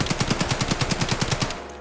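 AKM rifle firing in a video game, a rapid burst of about fourteen evenly spaced, loud, sharp shots followed by a short fading tail.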